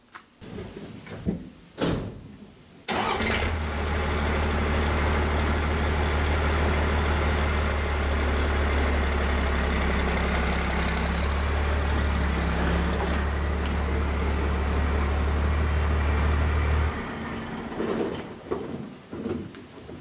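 A truck engine in a machine shop turns over and settles into a steady, deep idling rumble for about fourteen seconds before cutting off. A few sharp clicks and clanks come before it and after it, with no talking.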